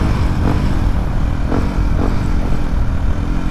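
A Yamaha WR155R with a standard engine drives at speed on a top-speed run at night. Its loud, close, steady engine roar holds high for a few seconds with slight rises in pitch.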